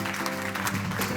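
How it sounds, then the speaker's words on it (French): Audience applause at an awards ceremony welcomes a prize recipient to the stage, a steady wash of clapping over a low hum that holds for the whole moment. "sous vos applaudissements"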